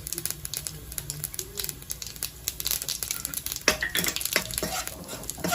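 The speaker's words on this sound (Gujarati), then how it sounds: "હવે આપણે 1/2 ચમચી રાઈ નાખીશું અને રાઈને કકડવા દઈશું" Half a spoon of mustard seeds crackles in hot oil with a dense run of quick pops and spitting over a continuous sizzle, close and fairly loud.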